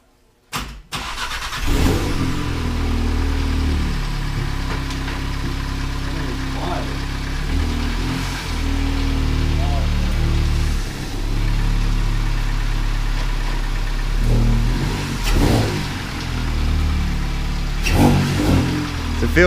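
A VW MK7 GTI with a freshly swapped manual gearbox runs close by, its engine idling and revving in steady surges with a few sharp bumps, as people talk over it.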